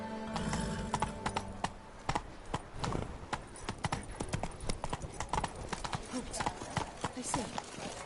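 Horse hooves clip-clopping at a quick gait in The Witcher video game, a loud, steady rhythmic run of hoofbeats with a brief whinny, heard close alongside speech.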